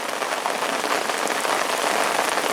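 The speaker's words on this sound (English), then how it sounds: "Safe to say it's raining, guys." Steady, dense rain falling outdoors at a fishing lake, a continuous close hiss of drops on surfaces with no talk.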